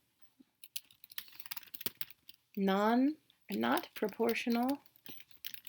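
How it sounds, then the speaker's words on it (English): Quick clicks of typing on a computer keyboard, sparse and uneven, while someone speaks over stretches of it. "I'm going to type mine to make it quick"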